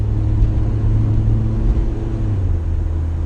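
Volvo Redblock engine pulling a car along a main road on dry rotted tires, a deep steady rumble that holds close and loud across the whole stretch with no voices.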